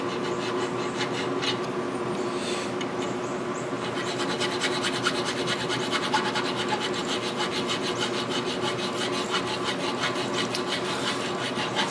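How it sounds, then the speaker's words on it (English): A forged steel knife blade is hand filed in a workshop, producing a continuous loud rasping scrape in long, steady strokes that grow denser and more rhythmic after the first few seconds, with no voices. "Doing this much filing really can wear your arms out."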